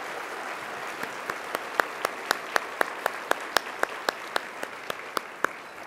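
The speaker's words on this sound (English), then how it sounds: "let's give all these dedicated people a round of applause right now." A luncheon audience applauds warmly, a soft bed of crowd clapping punctuated by crisp, evenly spaced loud claps from nearby hands.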